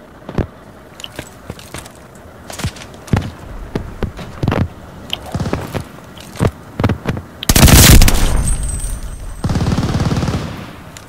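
Sharp, separated machine gun shots in a video game, loud and near, popping irregularly before a heavier sustained burst of fire and a final noisy blast.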